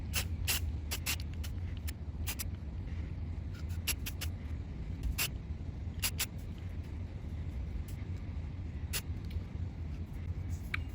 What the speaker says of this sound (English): Hard to do with a spray bomb.